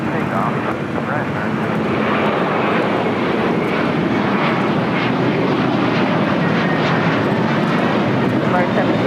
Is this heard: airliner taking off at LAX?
yes